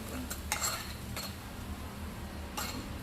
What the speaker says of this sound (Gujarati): હવે બધું મિક્સ કરી દેવાનું